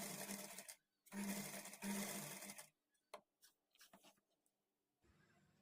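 Two close bursts of sewing-machine whirring stitch piping around a blouse neck, followed by scattered soft clicks and handling noises and a faint hum.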